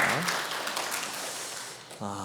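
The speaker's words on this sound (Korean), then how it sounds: "우리 여기 계신 모든 아버님들, 아버지들을 위해서 우리 큰 박수 한번 해주시면 되겠습니다" A church congregation claps for the fathers during a Sunday service, a steady wash of applause heard after a brief spoken line, with a voice starting again at the end.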